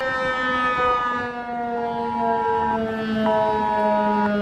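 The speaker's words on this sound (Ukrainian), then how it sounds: "Виття сирен звичні для нас звуки, але це не Україна." Civil defense sirens in Germany wail during an alert system test, several overlapping steady tones that are loud and continuous, with a slight rise and fall in pitch and no voices.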